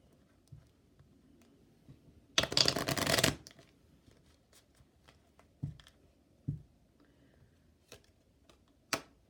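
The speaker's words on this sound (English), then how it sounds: "let's pull a couple of Kipper cards" A deck of Kipper fortune-telling cards is shuffled in one loud burst of riffling. Scattered soft taps and card clicks follow in a quiet room.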